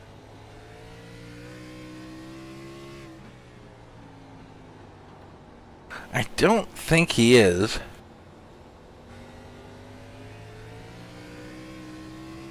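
A stock car engine at the Xfinity Series race at North Wilkesboro holds a steady, droning tone in the background while commentators talk over it, louder briefly in the middle.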